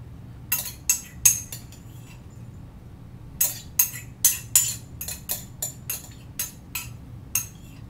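A metal spoon clinks and scrapes against a container while scooping out mustard seeds, sounding as a close series of sharp, irregular clicks in two bursts separated by a short pause.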